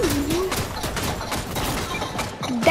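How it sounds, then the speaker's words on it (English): Rapid automatic gunfire from a deployed turret in Fortnite, a dense stream of shots rattling steadily throughout with a voice faintly in the background. "That's the turret that he threw down."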